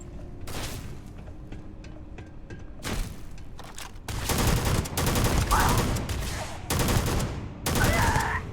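Rapid bursts of enemy gunfire in the video game Starfield, loud and close, with sharp clustered shots and several heavy volleys arriving in quick succession.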